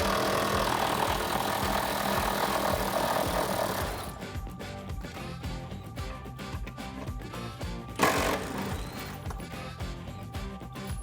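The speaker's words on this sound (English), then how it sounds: "we're going to take an 18 millimeter socket and remove the 2 front bolts." An 18 mm socket on a ratchet or impact tool takes out the seat bolts of a Jeep Wrangler. A loud whirring burst comes first, then a run of close ratcheting clicks with one sharp knock partway through.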